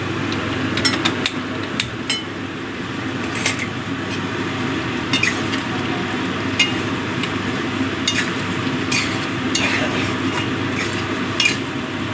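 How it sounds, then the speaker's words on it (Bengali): Ginger and cumin paste being stirred in a pan for a koi fish curry with bean seeds, with a steady scraping and sizzling bed broken by sharp clinks of a utensil against the pan, close and continuous. "এই আদা জিরে বাটাটা দিয়ে আমি ভালো করে মিশিয়ে নেবো"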